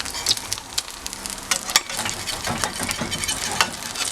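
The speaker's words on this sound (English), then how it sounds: "It's time to flip, so just gonna loosen up these edges." Vegan keto pancakes sizzle and fry steadily in a pan while a spatula scrapes and taps at their edges to loosen them, with occasional sharper clicks over the constant hiss.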